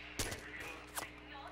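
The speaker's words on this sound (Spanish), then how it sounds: "Disparo de rifle." Rifle fire in the military video game Arma II: two sharp, loud gunshot cracks about a second apart over a steady background hum.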